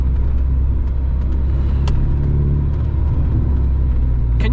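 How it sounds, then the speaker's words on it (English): Mazda MX5 MK2 driving at night on a bumpy UK country road, a steady close engine and road rumble from inside the car, with a few faint knocks and thumps from the uneven surface. "Bumpy roads."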